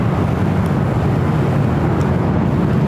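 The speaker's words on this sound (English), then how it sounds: "Lufthansa Flight 452 coming in from Munich" A Lufthansa Airbus A380 airliner from Munich lands at LAX, a loud, steady broadband jet roar filling the whole stretch without a break.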